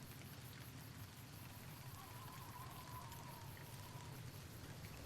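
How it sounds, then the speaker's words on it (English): Rain falls steadily in Fallout New Vegas, a constant soft patter and hiss of drops on the ground with a faint whistling tone drifting through the middle, no one speaking. "That's part of the fun of being out in the rain."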